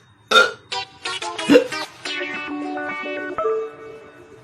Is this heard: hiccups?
yes